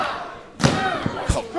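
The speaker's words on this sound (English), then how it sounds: "And a big power bomb." A wrestler crashing onto the ring mat from a powerbomb during a pro wrestling match, one heavy thud followed by a couple of smaller impacts over crowd noise.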